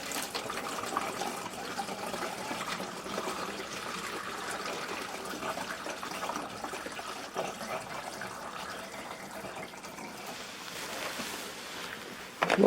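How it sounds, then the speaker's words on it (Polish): Water pours steadily into the container of an HHO generator in a continuous splashing rush, fairly close, with no voices, ending in a brief louder splash. "Najpierw wlewam wodę, nie odwrotnie, ponieważ się wszystko zagotuje na dno."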